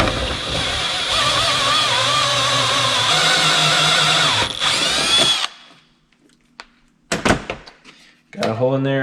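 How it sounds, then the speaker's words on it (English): A power drill with a hole saw cutting through a housing, a loud steady whine and grind for about five seconds that stops abruptly, followed by clunks and handling noise and a voice near the end. "now I'm just going to take my hole saw and drill a hole through the"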